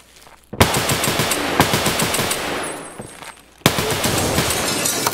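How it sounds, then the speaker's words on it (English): Video game AK-103 rifle fire rattles out in fast, loud automatic bursts, two long strings of shots separated by a brief pause, with no talk. "Do you hear how many shots I had to put into him?"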